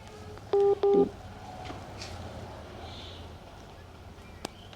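Two quick telephone keypad tones are dialed close together near the start, then a steady low background hum continues with no speech.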